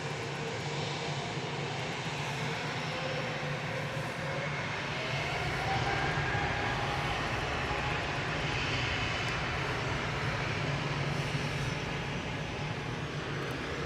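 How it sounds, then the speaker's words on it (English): EasyJet airliner departing Manchester Airport for Bilbao, a distant sustained jet engine roar rising slightly midway, steady and faint with no voices. "EasyJet to Bilbao departing there."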